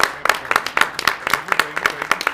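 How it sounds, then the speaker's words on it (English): A transit authority committee meeting gives a retiring driver a standing ovation after 38 years of service, with steady clapping from a small crowd throughout. "We want to give you a standing ovation for your time and your service."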